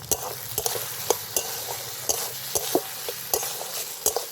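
Green tomato and small puti fish curry being stirred and sautéed in a pan with sugar and salt, a spoon scraping and knocking in a steady rhythm of sharp clicks over a soft continuous sizzle, close and moderately loud.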